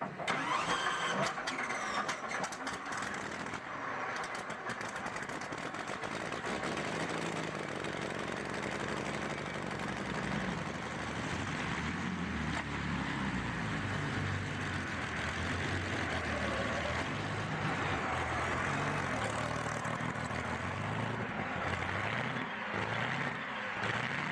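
A 1955 Chevy fitted with a 3000-horsepower engine cranks and fires up, then settles into a loud, continuous rumbling run with rough revving that fills the whole stretch, no voices over it.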